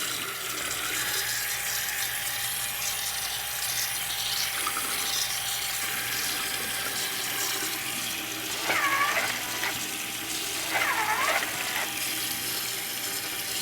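Tap water runs steadily into a sink as a towel is wetted, with a constant close hiss and a couple of brief higher-pitched sounds near the end.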